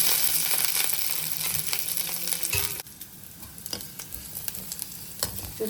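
Tempering frying in oil for Punarnava leaf pappu, a loud close sizzle that drops sharply midway to a quieter crackle with scattered pops and light stirring clicks.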